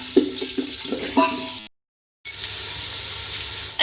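Onions fry in hot ghee with a steady crackling sizzle, briefly cut to silence and then resuming as a continuous hiss, with a voice speaking over the first part.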